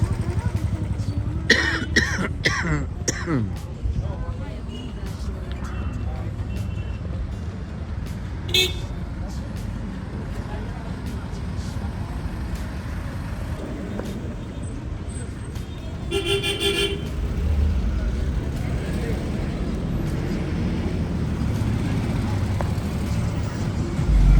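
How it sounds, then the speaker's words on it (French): Busy street traffic in India: steady engine rumble with several short car horn toots, mostly early on and again in a burst later, and a cough or throat clearing near the listener, with people talking now and then. "Voilà le trafic en Inde."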